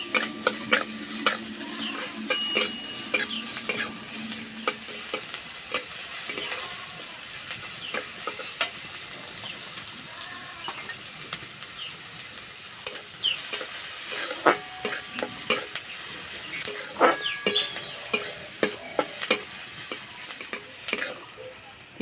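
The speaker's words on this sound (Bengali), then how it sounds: "পেঁয়াজ ভাজা হয়ে গেছে" Chopped onion, garlic, ginger and green chilli fry in a pan, sizzling steadily up close while a spatula scrapes and clacks against the metal in frequent irregular strokes.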